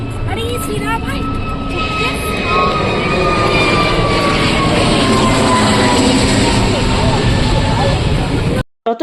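Loud, sustained roar of an airplane engine passing overhead, with a rising and falling whine, ending in an abrupt cutoff.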